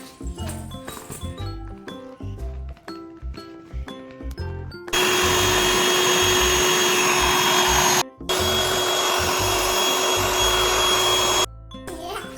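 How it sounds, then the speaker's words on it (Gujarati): A motorized electric air pump inflating a swimming pool drones loudly and steadily with a high whine for several seconds, briefly cutting out once, after a stretch of talking and clinking. "શિવનું આ સ્વિમિંગ પુલ છે એમાં આપણે હવા ભરવાની છે."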